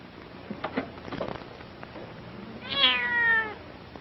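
A cat gives one clear, drawn-out meow near the end, preceded by soft rustling and a few muffled knocks.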